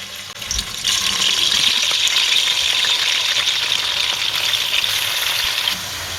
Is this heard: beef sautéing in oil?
yes